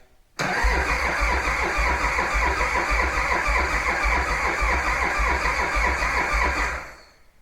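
A cold engine with thick oil cranks steadily without firing, a loud, close, rhythmic churning of the starter that runs for several seconds and then cuts off, with no voices.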